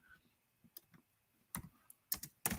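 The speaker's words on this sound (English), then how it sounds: "we are going to be typing" Typing on a computer keyboard: sparse, quiet clicks at first, then sharper clustered keystrokes toward the end, close and fairly faint with no talking.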